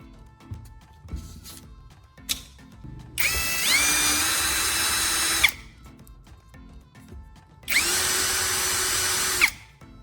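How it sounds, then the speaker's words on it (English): A power drill whirs in two loud, sustained bursts of a few seconds each, drilling holes through the centers of sandpaper circles, separated by quieter handling clicks and taps, close up. "Use a drill and carefully make a hole right in the center of each circle."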